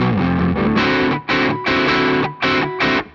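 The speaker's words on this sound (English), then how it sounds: "we kick on some distortion, and we go to this" Distorted electric guitar plays a chorus riff, loud and close, in chugging chord blocks separated by short breaks.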